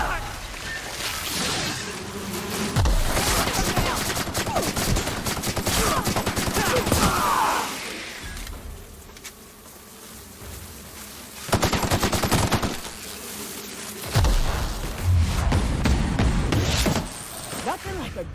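Automatic gunfire rattles in The Outer Worlds: Spacers Choice Edition, a sci-fi shooter game, in loud, sustained bursts across the whole stretch, with brief lulls and game dialogue mixed in.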